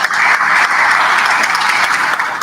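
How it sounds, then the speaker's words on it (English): Steady, dense applause from an audience at an International Women's Day event, continuous and fairly loud throughout with no speech over it. "Can we give her a big round of applause,"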